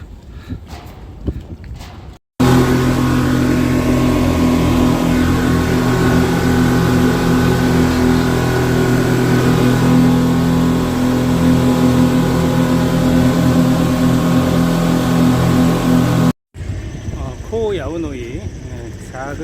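A loud, steady motorboat engine drone runs for most of a river crossing in Thailand without letup, with brief stretches of other noise at the start and end.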